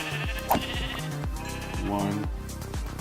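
Blocky Minecraft sheep bleat in a village in version 1.14, several wavering baas repeating at a steady pace, fairly loud and close, with someone talking over them.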